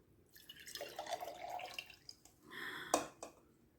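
Water is poured from one container into a bigger cup during a classroom science demonstration, giving a short, faint splashing trickle with a brief louder gush near the end.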